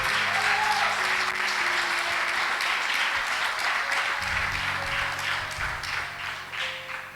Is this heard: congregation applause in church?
yes